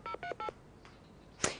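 Telephone number dialed on a Polish TV call-in game show, three quick DTMF tone beeps in a short rhythmic burst, then a pause and a brief final tone, clear and fairly close.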